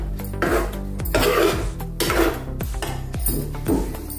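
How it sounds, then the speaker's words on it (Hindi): A metal pot is picked up and handled in a home kitchen while thalipeeth is prepared, giving repeated close clanks and scraping rubs of metal at an uneven rhythm. "अभी हमने बर्तन लिया है।"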